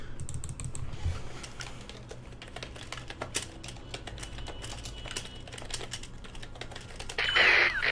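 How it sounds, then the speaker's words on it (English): Rapid clattering keystrokes on a computer keyboard, a dense stream of close, sharp taps over a low background hum, ending with a brief louder burst of noise. "when I'm typing really fast"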